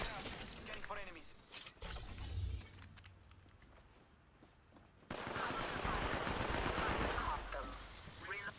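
Rapid bursts of gunfire aimed at the player in a multiplayer ranked arena shooter video game, crackling volleys in uneven clusters alongside game voice callouts and talk.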